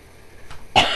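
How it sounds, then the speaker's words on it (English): A single short cough bursts out near the end of a quiet indoor moment, close and fairly loud, preceded by a faint throaty rasp. "I don't know why I'm coughing so much."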